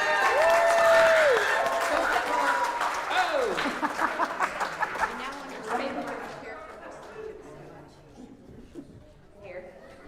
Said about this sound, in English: let's clap for our crew and give them an opportunity to go.